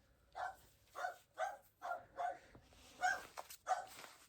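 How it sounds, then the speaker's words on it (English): Ollie the dog lets out a steady run of about seven goofy, high barks, evenly spaced and fairly close, with no talk over them. "Ollie's going to start his goofy barking"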